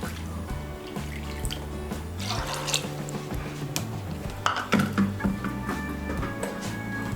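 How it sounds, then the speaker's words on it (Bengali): Water is poured into a pot of chana dal for a Bengali tadka, a continuous close splashing and dribbling stream with a few clinks against the pot. "এর মধ্যে আমি 3 কাপ জল দিচ্ছি"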